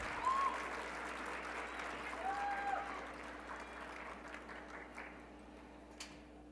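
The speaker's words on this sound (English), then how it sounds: "Let's give a round of applause to our 12 contestants for Mr. VHS 2019 in their formal wear and their lovely escorts." An audience at a high school male pageant applauds twelve contestants in formal wear and their escorts; the clapping is soft and distant, a steady wash of many hands over a low hum.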